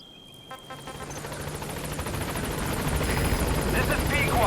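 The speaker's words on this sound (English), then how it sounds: "Support helicopter has arrived." A support helicopter arrives in the video game Metal Gear Solid 5: Phantom Pain, its rotor thrum building steadily louder and nearer under in-game radio chatter.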